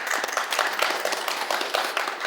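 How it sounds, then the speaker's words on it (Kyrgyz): An audience claps steadily at a Kyrgyz television show, a dense, even patter of many hands that holds at a moderate level throughout without voices. "Кол чаап коюңуздар"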